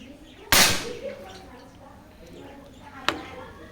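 A single sharp shot from an unsilenced SPMC PCP air rifle cracks loudly, followed a few seconds later by a second, quieter snap, with faint background noise between.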